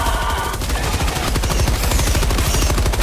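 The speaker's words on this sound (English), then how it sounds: "If you hold the trigger down on the LMG for long enough, eventually your Helldiver will do this." Sustained light machine gun fire in Helldivers 2, a loud, unbroken stream of rapid shots hammering on without pause for the whole stretch.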